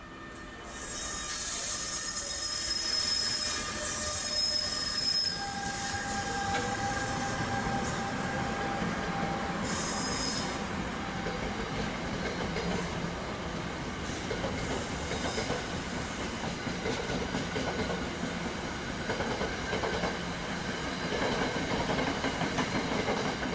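NJ Transit train 4637, an electric locomotive hauling Comet coaches, rolling past under way: a steady, loud rumble of wheels and cars with rhythmic clatter and occasional high wheel squeals, no talk.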